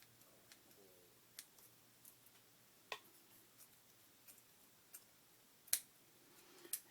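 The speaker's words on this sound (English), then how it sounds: "This scissors does not cut worth anything." Dull scissors snipping through paper while crafting an altered book junk journal, a sparse series of quiet, sharp clicks and snips at irregular intervals over a faint background hum.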